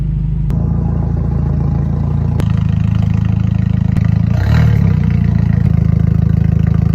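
A car engine with gutted catalytic converters idles loudly with a deep, steady exhaust rumble and rhythmic clatter, with a brief rev near the middle.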